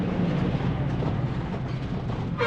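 A continuous low rumble of a train rolling by on the line to Guwahati, Assam, steady and fairly loud throughout, with a brief rattling burst near the end.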